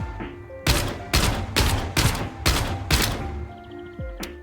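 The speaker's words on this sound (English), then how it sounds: "We're just gonna hip fire mag dump." Rapid hip-fired magazine dump from a gun in Gunsmith Simulator, about six loud sharp shots in quick succession with ringing tails, followed by a clinking mechanical sound as the firing stops.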